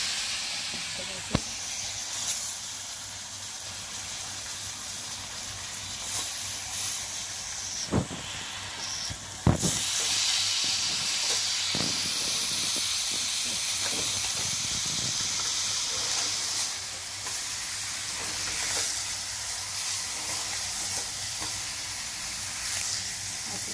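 Fish slides into a hot pan and hisses in a steady, close sizzle with a steamy edge, broken by a few sharp knocks and clatters of utensils.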